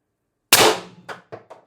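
An IntruBuster Gen 2 launcher fires ACIL ABS-coated 10.1 g steel ammo at 1000 PSI: one sharp, loud crack followed by a few quick metallic rattles and echoes.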